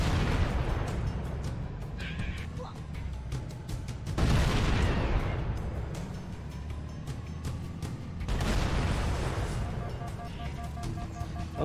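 Gunfire hitting a tank in Halo: Combat Evolved, heard as a constant loud battle rumble broken by two heavy, booming bursts of impact and fire, with no talking.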